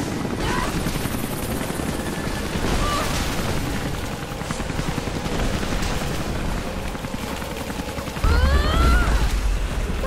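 Explosions in the video game Rise of the Tomb Raider on PS4, a dense continuous roar of blasts and rumbling with a heavier boom near the end, loud and sustained.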